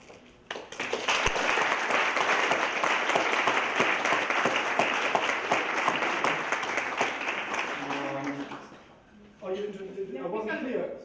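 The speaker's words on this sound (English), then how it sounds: "So you give your applause and then" An audience at a debate on euthanasia breaks into sustained, loud applause for several seconds, which fades out before a voice starts speaking.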